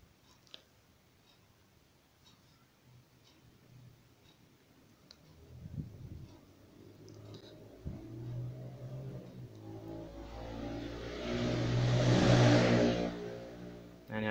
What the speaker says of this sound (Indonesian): Nah, ini ada suara motor ya.